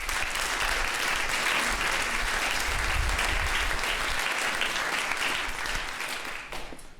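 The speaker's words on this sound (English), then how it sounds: "So just a quick round of applause for Friends of Music." Dense audience applause fills a school jazz concert hall, steady and loud for several seconds before tapering off near the end, with no talk over it.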